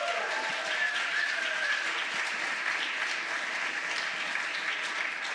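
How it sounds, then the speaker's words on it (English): Steady applause from a large conference audience at a medical plenary session, dense clapping holding at an even level throughout with no pauses. "give yourself a round of applause"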